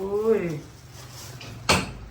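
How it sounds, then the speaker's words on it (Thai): A door swings shut with a single sharp thud near the end, after a stretch of talking voices in a room. "เดี๋ยวเขาอยากปิดประตูก่อน"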